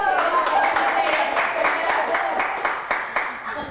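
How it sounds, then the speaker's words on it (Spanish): Audience at a Mother's Day tribute gathering in Biblián, Ecuador, clapping for a raffle prize winner; scattered claps start strong then taper and thin out, with a voice talking over them. "Un aplauso fuerte para Luz María."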